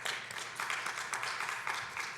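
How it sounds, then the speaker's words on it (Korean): A church congregation applauds during a youth worship service, a steady patter of many hands clapping at a fairly faint, distant level for a couple of seconds. "우리 박수 한번 쳐주도록 하겠습니다."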